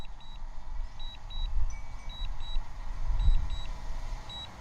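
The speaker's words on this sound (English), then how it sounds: "you can't turn that beeping off" A DJI Mini 2 drone's short high electronic beeps repeat in pairs at a steady pace as it lands, over a low rumbling wind-like background, fairly faint and with no voices.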